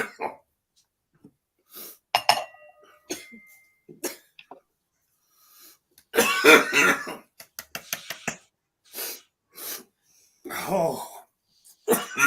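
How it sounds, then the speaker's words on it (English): Someone nearby suffers a coughing fit after eating crisps dosed with something harsh, with repeated bursts of hacking coughs and throat clearing in uneven clusters between quiet gaps and a brief exclamation. "And there's another coughing fit."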